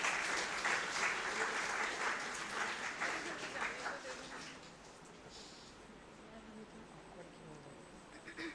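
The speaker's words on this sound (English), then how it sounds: "Please give a big round of applause for Dr. Haruko Hosoi." Audience applause fills a seminar hall, loud and steady at first, then thinning out and fading as the clapping dies down.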